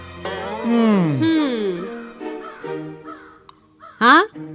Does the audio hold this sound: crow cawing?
yes